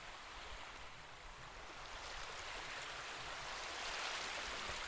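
Ocean waves wash in a distant, steady surf, a soft broadband rush that swells slightly toward the end, faint and without voices.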